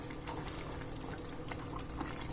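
Thai red curry made with canned coconut milk bubbles in a pot, a soft, continuous simmering burble heard close with no voices.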